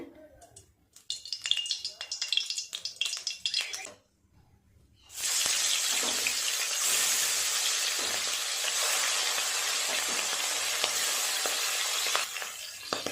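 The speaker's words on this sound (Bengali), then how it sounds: "মাছগুলো আগে গ্যাস দিয়ে ভেজে নেব। কড়াই গরম হয়ে গেছে, তেল দিয়ে দেব, সাদা তেল।" Fish frying in hot white oil in a wok, heard first as crackly bursts, then after a brief near-silent pause a strong steady sizzle rises and carries on loud and even to the close.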